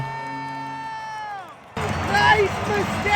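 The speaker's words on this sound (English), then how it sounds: "the crowd was absolutely buzzing" A hockey crowd at the Wells Fargo Center during a Philadelphia Flyers game bursts in after a sustained organ-like tone ends, a loud, dense roar of cheering and shouting that carries on to the end.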